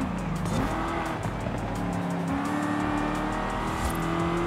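A damaged racing car's engine in Forza Horizon 5 whines and shifts pitch continuously, with a brief tire squeal early on, loud and steady throughout.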